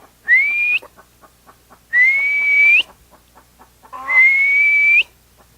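A person whistles to imitate a partridge call, three separate rising whistled notes, each held about a second with pauses between, loud and close with no talking.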